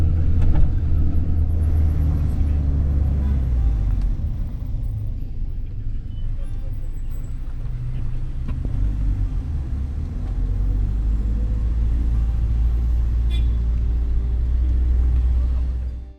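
Local marshrutka minibus on the road from Tbilisi to Kazbek with front and rear windows open, a steady loud low engine rumble and wind roar that holds throughout with no talk.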